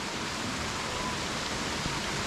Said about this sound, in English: This is a view of Vernal Fall from the bridge that crosses the Merced River.